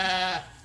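A single close sheep bleat, loud and wavering, lasts about a third of a second before fading into quiet farmyard background.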